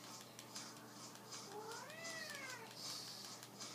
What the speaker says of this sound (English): sorry about my cat, he might meow during this.